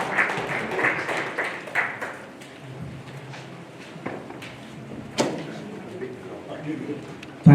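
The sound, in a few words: audience applause for the speakers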